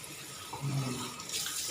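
Running water splashes while a large tilapia is rinsed clean, a steady close rush of tap water with brief louder gushes and no talking.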